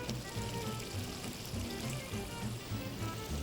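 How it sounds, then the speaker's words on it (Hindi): Water is poured into a simmering potato curry, a faint steady hiss and patter under quiet kitchen background noise. "लेकिन मैं थोड़ा सा पानी इसमें डाल रही हूँ"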